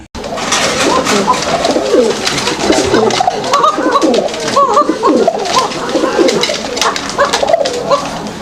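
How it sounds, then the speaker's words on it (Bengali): Fancy pigeons coo loudly and close up, a steady overlapping series of throaty rolling calls that continue throughout. "আপনারা কোকার কিন্তু ডাকটা দেখছেন খুব সুন্দর ডাকে"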